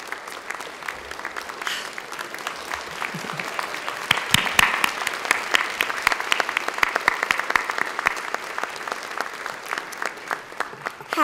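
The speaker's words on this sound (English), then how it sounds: "We should give them a round of applause right here." An audience applauds two young children, ages 7 and 9, at a human rights prize ceremony. The clapping is steady and moderately close, and it swells midway before carrying on to the end.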